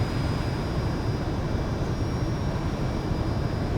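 Steady, loud jet engine drone from a Fouga CM.170 Magister twin-engine trainer jet in flight in Microsoft Flight Simulator, a constant broadband roar with a faint high whine, no voices.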